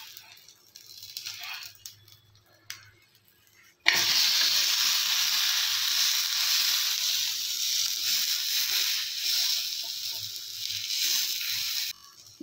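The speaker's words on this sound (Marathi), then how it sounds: "आणि हे दोन्ही साईडला असे खरपूस आपण भाजून घेणार आहोत।" Vegetables roasting until crisp in a hot pan give a loud, steady sizzle that bursts in abruptly after a few quiet seconds and hisses on continuously near the microphone, with no talk.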